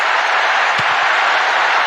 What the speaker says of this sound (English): A huge roar from the crowd.